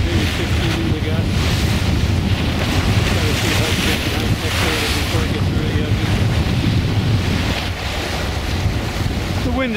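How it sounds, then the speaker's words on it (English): Sailing near the north end of Texada Island, with steady wind buffeting the microphone and waves washing continuously around the boat, a loud, unbroken rush throughout. "The wind has eased a little bit."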